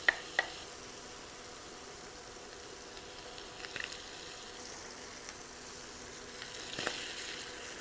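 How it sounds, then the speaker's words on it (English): Onions go into four tablespoons of melted butter in a pan and sizzle softly and steadily, with a few faint clicks and knocks of utensils near the start and end, quiet and alone. "We're going to add the onions."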